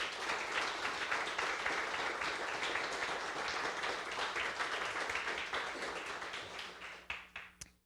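A church congregation applauds during a worship service, dense steady clapping filling the room for several seconds before tapering off into scattered final claps.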